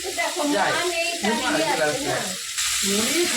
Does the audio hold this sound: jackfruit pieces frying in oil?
yes